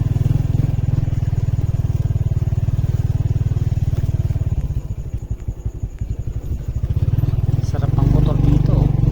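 A Honda XRM125 motorcycle rides off road on an unpaved track through rice fields, its single-cylinder engine thumping loudly and steadily close by. It eases into a choppier idle-like patter midway, then builds again.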